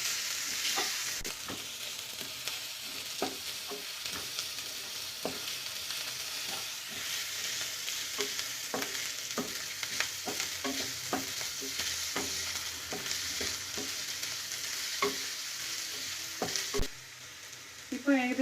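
Chopped green chillies and curry leaves sizzling in a frying pan, with a steady hiss of hot oil and repeated scrapes and taps of a spoon as they are stirred.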